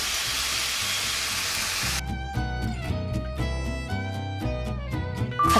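Bacon fries in its own rendered fat for quiche Lorraine, a steady close sizzle that becomes partly masked when music with clear tones comes in partway through.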